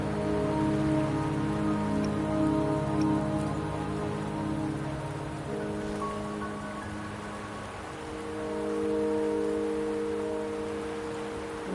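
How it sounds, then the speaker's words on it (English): Steady rain pours in the game Wuthering Waves, a continuous dense patter close around the listener with layered musical tones running beneath, no voices present. "Don't worry, the rain won't last much longer."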